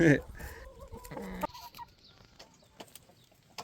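Chickens and a heavy, docile 4.5 kg broiler-line rooster cluck in short, close bursts. The calls fade into quieter rustling and faint scattered sounds.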